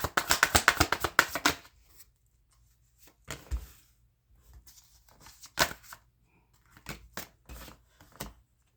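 Tarot cards are riffled and shuffled in quick crisp bursts, a dense flurry first and then shorter scattered shuffles with pauses between.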